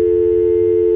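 A loud, steady telephone tone holds at one pitch with no break while someone calls the police, close and alone with no talking over it.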